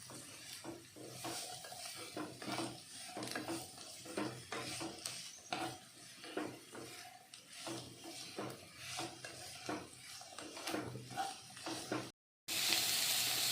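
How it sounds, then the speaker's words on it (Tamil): Diced carrot, beans and potato sauté in a pan for vermicelli upma, giving a soft, steady sizzle with frequent spatula scrapes and stirring knocks close by, and a brief gap near the end. "காய் ஆட் பண்ணதுக்கப்புறம் நல்லா வதக்கிக்கலாம்."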